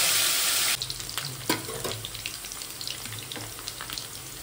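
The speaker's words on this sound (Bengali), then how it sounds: "আর আলুগুলো এখন ভাজবো, ওই তেলের মধ্যেই আলু ভাজবো" Potatoes fry in hot oil for an egg curry, a strong hiss at the start as they hit the pan, then settling into a steady crackling sizzle with occasional stirring clatters, close and alone without talk.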